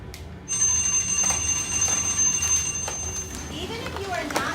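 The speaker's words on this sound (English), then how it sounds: "Start cleaning when the bell rings." Classroom bell in an art room rings continuously for several seconds, a bright sustained metallic tone over faint room noise.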